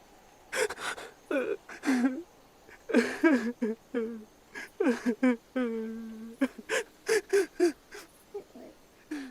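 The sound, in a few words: crying voice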